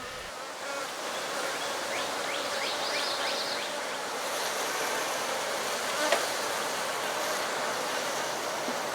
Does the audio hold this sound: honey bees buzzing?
yes